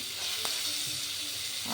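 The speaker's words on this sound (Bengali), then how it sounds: "এখানে হচ্ছে কুমড়ি ভাজছি" Pumpkin slices fry in hot oil in a pan, giving a steady, close sizzling hiss that stays even throughout with no talking.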